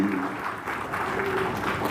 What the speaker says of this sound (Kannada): ಸ್ವಲ್ಪ ಜೋರಾಗಿ ಚಪ್ಪಾಳೆ ಹೊಡೆದು